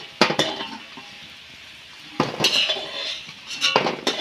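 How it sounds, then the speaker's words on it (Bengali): Fried dhoka (Bengali lentil cakes) set down onto a plate, heard as a few close clinks and scrapes of utensils against metal dishes, in three separate bursts with quiet kitchen hum between them. "ধোকাগুলো ভেজে নিচ্ছি এখন আমি একটা থালায় ভাবে নামিয়ে নিচ্ছি"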